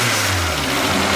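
A Toyota AE86 Trueno engine running steadily just after being started, a continuous close, loud mid-to-low idle drone with a slight rise and fall in revs throughout.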